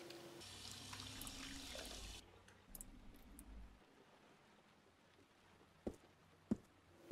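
Running water at a sink in the game Heavy Rain, a steady faucet hiss pouring for about two seconds before cutting off, followed by quieter room sounds and a couple of sharp clicks.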